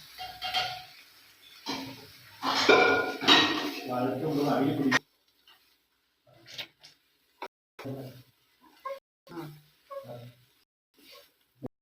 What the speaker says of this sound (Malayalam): അതിനുശേഷം എല്ലാം കൂടി ഒന്ന് വഴട്ടി കൊടുക്കാം.